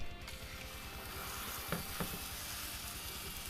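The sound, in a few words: pork loin searing in a skillet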